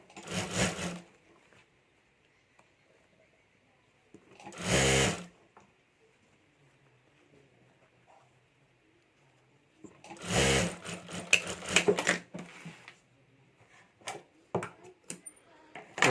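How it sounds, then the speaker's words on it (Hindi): Sewing machine stitching a sling bag's lining in bursts, with several rapid runs of needle clatter separated by quiet pauses and a few light clicks, close and clear. "तो यहाँ मैं सिलाई करके पैक कर देता हूँ।"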